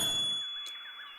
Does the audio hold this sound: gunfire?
no